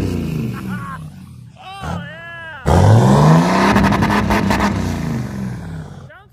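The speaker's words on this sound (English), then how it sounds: "All right, first rev limiter test." A 4th-generation Cummins diesel truck with a new tune revs up hard and bounces off the rev limiter, a loud, close roar broken by rapid choppy cuts, with someone talking before the rev.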